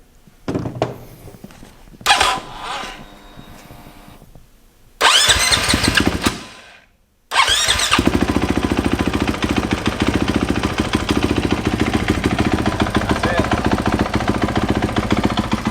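A KTM motorcycle engine cranks over with brief bursts, cuts out, then catches and runs loud and steady up close, with a short gap before it settles into a continuous running note.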